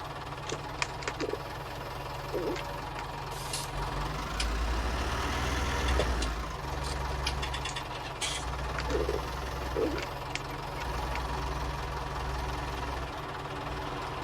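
A John Deere tractor engine running steadily on a 1961 farm with straw bales, a low chugging idle with a knocking rhythm throughout, and occasional metallic clanks over it.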